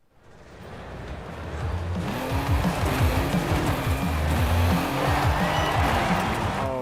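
Car engine in Forza Horizon 5 building from a quiet start into a steady, loud drone with rising and shifting harmonic tones as the game car accelerates and corners, continuous for the whole stretch with no voices.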